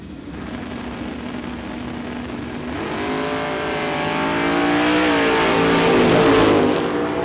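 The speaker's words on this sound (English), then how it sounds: "I heard somebody hit the throttle a couple times down there" A no-prep drag race car at Ozark Raceway Park revs loudly, its engine note climbing in harmonic sweeps as it launches and pulls away, building to a roaring peak before easing off near the end.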